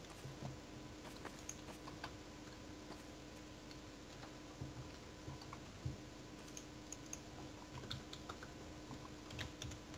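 Typing on a computer keyboard during a Garry's Mod game session, quick irregular clicks and clatter of keys up close but fairly quiet, with no talking.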